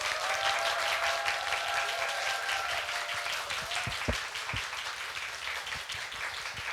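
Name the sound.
audience applause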